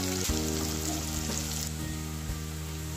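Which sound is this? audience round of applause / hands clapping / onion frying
onion frying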